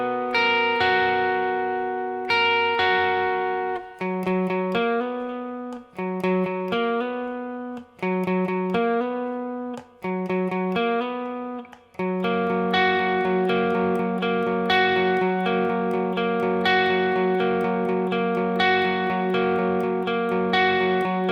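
Electric guitar plays the soft bridge of a song, repeating a short clean picked riff in bursts with brief pauses, then shifting into a fuller, sustained strummed section.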